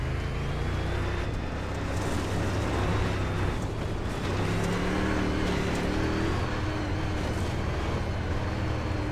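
A UMP Modified race car engine in a Farming Simulator 22 game fires up and runs with a steady, loud, rumbling drone that holds close and continuous throughout, without any talk.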